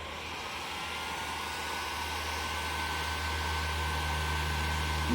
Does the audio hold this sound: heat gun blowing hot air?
yes